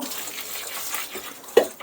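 Freshly planted tomato plants in a garden bed are watered from above: a faint, soft splash and trickle of water, with one brief louder splash near the end.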